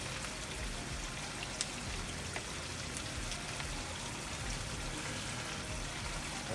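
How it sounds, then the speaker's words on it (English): Chicken wing goulash ingredients sizzle steadily in a pan, a continuous close crackling hiss with tiny pops, no voices. "We're gonna saute everything down and use our seasonings in there"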